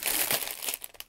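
Plastic parts bags from a painting building kit crinkle and rustle up close in a brief, busy burst that thins into a few sharp crackles.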